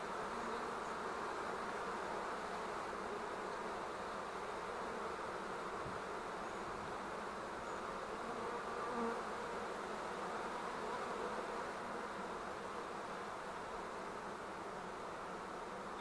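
A dense, steady drone of many bees humming together inside a hive, continuous and even throughout, with no voices.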